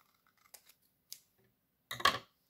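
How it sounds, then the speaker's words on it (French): Scissors snip through folded paper in a quiet room: a few faint, sparse clicks of the blades, then one louder, longer crunching cut near the end. "Donc là je coupe sur mon dernier pli"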